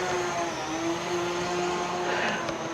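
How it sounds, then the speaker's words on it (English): Workers cut grass with a motorized cutter in Fort Kochi, Kerala, India, giving a steady, fairly loud engine drone with a sustained whining tone that holds throughout. "These guys are chopping off the grass here"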